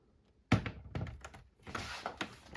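PS4 Pro console cover being pulled off, a sharp plastic thunk followed by a few softer clicks and scraping taps, close and quiet.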